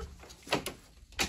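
A door in a room is opened, with a few faint knocks and a soft slide or latch sound, quiet against low background noise.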